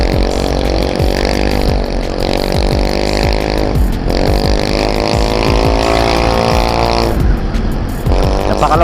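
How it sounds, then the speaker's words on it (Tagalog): Motorcycle exhaust close by while riding along Ortigas Extension toward Cainta, a loud revving drone with rising and falling pitch sweeps as the engine accelerates and shifts, continuous over steady road noise. "Napakalapit ng tunog ng iyong exhaust."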